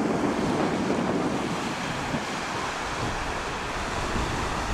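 Ocean waves wash onto the Waterford beach on Prince Edward Island under a steady breeze, a continuous broadband rush with wind buffeting the microphone and no voices.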